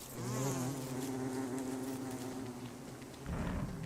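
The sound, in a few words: bees buzzing in video game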